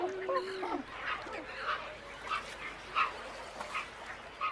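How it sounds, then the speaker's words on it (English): White pelicans call in a Balkan delta breeding colony, giving a series of short, hoarse honking grunts at a fairly regular pace that sound moderately close against a quiet outdoor background. "Two pelican species are found in the delta, the Dalmatian pelican and these white pelicans."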